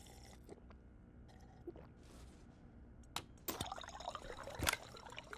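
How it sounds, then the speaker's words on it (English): A character in the Stationeers game on Mars drinks water, with a few soft liquid trickles and pouring sounds, then a brief cluster of gulping, splashy noises near the end, close and quiet with no talk. "we'll grab a drink of water while we're here"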